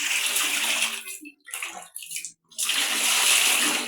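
Tap water gushing into a bucket to replace dirty water, a steady loud pour with two brief pauses before the flow resumes strongly.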